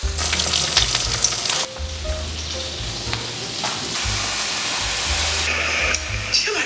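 Egg rolls wrapped around a cream cheese filling fry in a hot pan, giving a continuous bright sizzle with a low rhythmic hum underneath and brief crackling bursts, close and fairly loud, with nobody talking.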